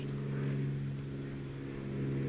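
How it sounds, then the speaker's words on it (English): An airplane flies overhead with a steady, low, droning engine rumble that holds at an even level for the whole stretch, with no talking. "That's a plane."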